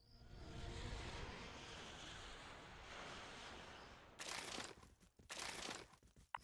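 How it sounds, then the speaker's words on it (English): Spacecraft engines spinning up in the Star Wars mod Thrawn's Revenge, a faint swelling roar like an aircraft engine that builds and holds, then gives way to sharp crackling bursts. "Engines activated."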